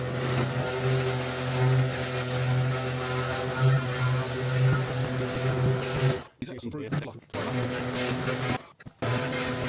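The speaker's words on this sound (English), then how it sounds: "You hear Jane with the jet wash." A steady, droning pressure washer (jet wash) motor runs loudly with a constant hum while a VW T5 van seat is removed, cutting out briefly twice near the end, while people talk over it.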